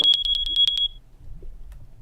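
A fire alarm in a Minecraft modpack sounds off as a rapid run of about seven shrill electronic beeps, loud and close, then cuts out, leaving low rumbling background noise.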